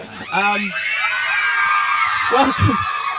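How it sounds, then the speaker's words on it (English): A crowd of fans at a film cast interview for The Fault in Our Stars screams shrilly and continuously, loud and close, with voices talking over the din near the end. "We're going to have to be really careful on word count, because if they scream every word, we're in trouble, right?"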